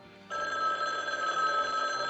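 An old telephone bell rings continuously at a steady, bright tone, fairly loud in a quiet room, with no one speaking.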